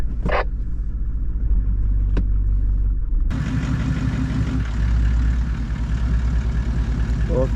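A manual car's engine runs steadily during a driving lesson on a cliffside dirt road near a campsite, a loud continuous rumble with a brief shift in tone partway through and a short voice at the start.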